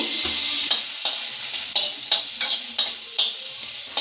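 Green chillies sizzle steadily in oil in a pan while a spoon scrapes and stirs in a loose, repeated rhythm, close up with no talking.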